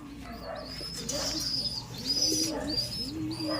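A bird coos softly in repeated low phrases, with higher chirps overhead and a light outdoor background.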